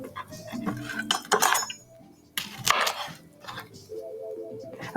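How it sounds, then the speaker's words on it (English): A knife clacks and scrapes against a cutting board in several bursts of chopping vegetables into 2-inch strips, with clinks of utensils in a quiet kitchen. "I cut these into about 2-inch strips"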